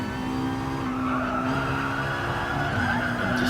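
A race car in the GT Sport video game, a Manufacturer Series race on a Brazilian circuit, brakes into a corner: a steady, loud engine drone with tire squeal running under it throughout.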